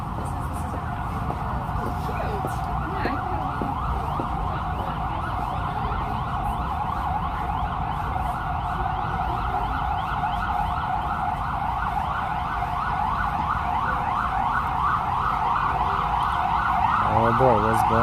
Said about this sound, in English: A fire truck and a fire ambulance.